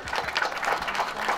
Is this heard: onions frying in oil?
no